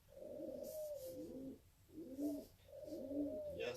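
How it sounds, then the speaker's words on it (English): A dove coos softly in the background in three repeated phrases, a steady, mellow call at moderate distance with no talk over it. "Yes, that is a dove you hear in the background."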